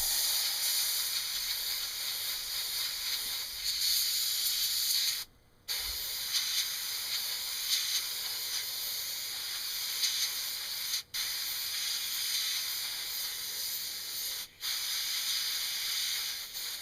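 An airbrush sprays paint onto a screen printed shirt in a long, steady, close hiss with a few brief pauses where the trigger is released, then resumes.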